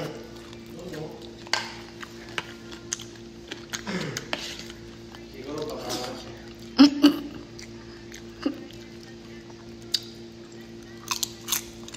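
Crunchy bites and chewing come up close while someone eats, in scattered short crunches over a low steady hum, with a few dish clinks and speech now and then between the bites.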